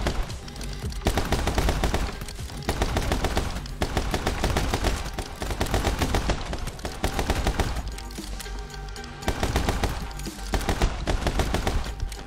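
Continuous rapid gunshots in the action game My Friend Pedro, loud, dense bursts of fire in a steady pulsing rhythm with brief dips throughout, no voices.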